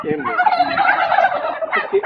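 A turkey on a turkey farm gobbles in a rapid, warbling burst, close and clear with no talking.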